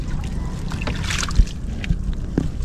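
Paddle strokes dip into water at a steady rhythm from a small boat while crab trapping, with wind rushing across the microphone throughout.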